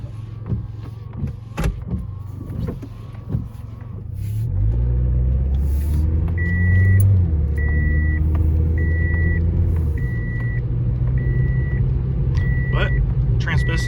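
A 2007 Toyota Yaris pulls away and drives, its engine rising into a steady close rumble with road noise, while a regular electronic chime beeps repeatedly; a person talks over the first few seconds.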